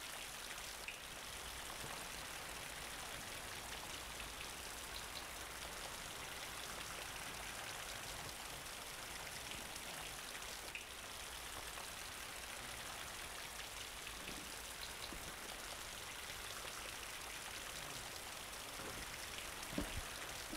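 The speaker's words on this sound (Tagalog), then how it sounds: "malakas ang ulan" Steady, dense rain pours down continuously, a loud broadband hiss with scattered drops pattering close by throughout.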